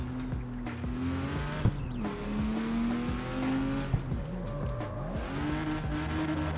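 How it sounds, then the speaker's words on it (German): Car drifting on Racing Plus tires in the video game CarX Street, a steady loud engine drone with rising and falling revs and continuous tire squeal, no voices. "Ja, doch, die Racing Plus Reifen kann man doch driften."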